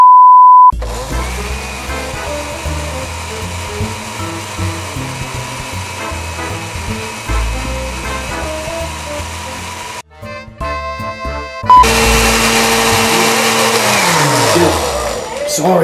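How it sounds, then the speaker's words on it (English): Blender whirring loudly and steadily as it mixes a 1,000 calorie shake, a continuous motor drone that cuts out briefly with beeps, then starts again with a rising whine. "Let's get blended. Are you going to blend it?"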